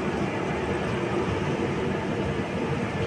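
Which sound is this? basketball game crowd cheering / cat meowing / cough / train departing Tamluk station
train departing Tamluk station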